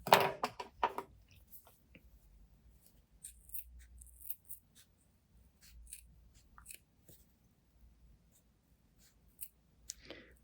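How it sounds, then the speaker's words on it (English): Several crisp snips of scissors cutting fabric come in a quick burst, followed by faint, scattered cuts and light handling noises in a quiet room. "we're gonna go ahead and clip into this triangle right up to the stitch line"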